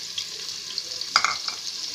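Chopped onions dropped into melted ghee in a pot set off a sudden close sizzle over the steady hiss of frying, with a few brief crackling bursts before it settles back.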